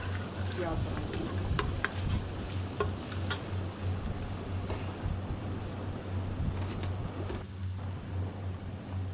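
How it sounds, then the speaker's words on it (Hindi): Ginger garlic paste frying in hot oil for an aloo chicken dish, a steady close sizzle with stirring clinks and a low constant hum underneath, running the whole time. "अब हम ऑयल में डालेंगे 2 टेबलस्पून अदरक लहसुन का पेस्ट।"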